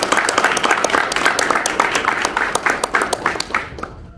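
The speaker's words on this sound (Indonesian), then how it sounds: "Sekali lagi beri tepuk tangan buat beliau." A crowd at a school Youth Pledge Congress performance applauds steadily with dense, continuous clapping that fades out at the end.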